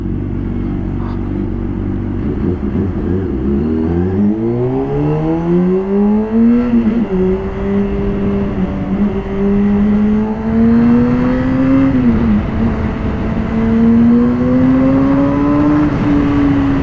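A Honda CBR 600 RR HRC Edition sport motorcycle with a full Akrapovic exhaust system revs and accelerates close by, its engine pitch climbing smoothly through several gears under steady wind and road roar.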